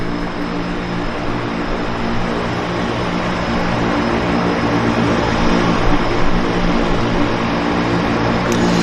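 A propeller floatplane at the Vancouver float base drones steadily and loudly as it comes in to land on the water, a constant engine roar with no voices over it.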